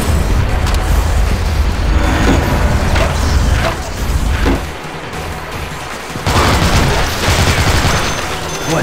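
Weapons fire in the zombie shooter game Dead Trigger 2: dense, loud bursts of rapid gunshots and heavy booms roll almost nonstop, easing briefly in the middle before surging again.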